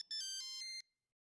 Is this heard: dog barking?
no